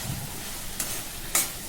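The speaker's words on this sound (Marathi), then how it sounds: "आता आपण त्या ग्रेव्हीमध्ये भेंडी घालायचे आणि मसाल्याबरोबर भेंडी भाजून घ्यायची." Okra frying with masala in a gravy in a pan, a faint, even hiss of sizzling with two brief stirring scrapes, heard close and quiet with no speech.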